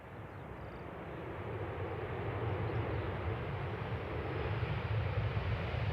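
A jet airliner on landing rollout at Manchester Airport, using aerodynamic braking with its nose held up, producing a broad continuous engine roar that swells gradually, heard from a distance and without voices.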